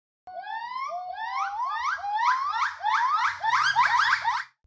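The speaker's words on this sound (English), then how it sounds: "Gibbon." A gibbon call rings out alone: a clear, loud series of rising whooping notes that speed up and climb in pitch, building into a rapid, excited climax before cutting off.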